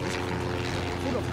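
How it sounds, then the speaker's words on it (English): Propeller airplane in Far Cry 2 drones steadily overhead, a loud, continuous engine hum that fills the whole moment without letting up. "You see that plane?"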